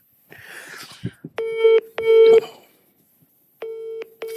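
A phone's ringback tone repeats in evenly spaced pairs of electronic rings with gaps between, while the call goes unanswered, preceded by a few faint rustles.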